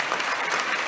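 Church congregation clapping during a worship service, a brief burst of dense, close applause from many people.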